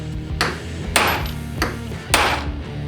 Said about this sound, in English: Then you're going to smack it with a hammer to create a dent or divot in the coin.